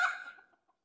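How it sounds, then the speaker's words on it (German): A single short fowl call at a breed poultry show with many roosters penned together, loud at first and fading within half a second, with a few faint later peeps. "Hier haben wir eine ganze, ganz viele Hähne zu stehen."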